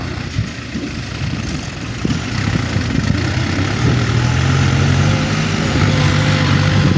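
A New Holland tractor engine runs close by with a low, steady rumble that swells slightly partway through, then keeps a throbbing idle-like drone.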